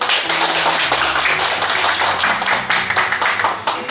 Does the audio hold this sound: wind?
no